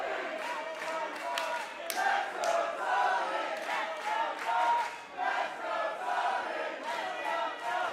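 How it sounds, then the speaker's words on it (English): A wrestling crowd at a street fight match cheers for Tony, a rolling, swelling roar of many voices with chanting peaks, heard at a distance and fairly faint. "This crowd not giving up on Tony."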